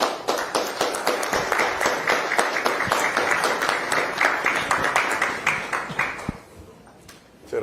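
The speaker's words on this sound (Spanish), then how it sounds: "Muchas gracias, un aplauso." Applause from officials and attendees at a Costa Rican government council session, brisk clapping with sharp individual claps, dropping off near the end.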